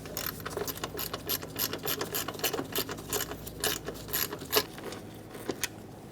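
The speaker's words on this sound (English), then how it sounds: "We're going to remove that bolt." Ratcheting clicks from a wrench loosening a 10mm bolt on the coolant reservoir of a 2003-2007 Honda Accord, a rapid run of close, crisp mechanical ticks with a few louder clacks near the end.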